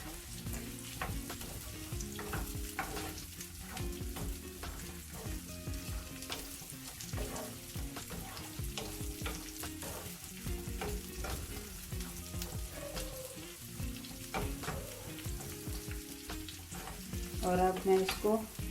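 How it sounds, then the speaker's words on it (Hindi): Vegetables and ingredients for a restaurant-style whole masoor dal are stirred and cooked in a pan, giving a steady close sizzle broken by repeated spatula scrapes and stirs, with no talking. "अब इन सारी चीज़ों को अच्छी तरह मिक्स कर लेंगे और पका लेंगे।"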